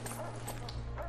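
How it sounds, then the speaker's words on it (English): A dog in the video game Dauntless gives short yips and whimpery barks, close and fairly steady over a low humming game background. "Here's another dog."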